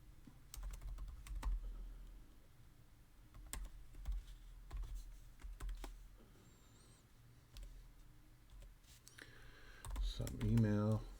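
Someone types a password on a computer keyboard while setting up WordPress on a Raspberry Pi, giving soft, irregular bursts of close key clicks with pauses between. Faint talk and a brief louder voice appear near the end.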